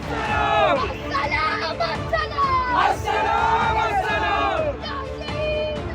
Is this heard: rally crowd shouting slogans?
yes